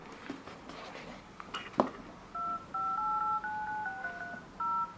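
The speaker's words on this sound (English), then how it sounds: "there's a sound when you, like a sound when you touch the keys or whatever, type of a letter" Touch tones from an Android phone keypad without a SIM card, a run of short clean beeps in uneven rhythm, each tone a brief steady pitch, preceded by faint tapping and handling noises.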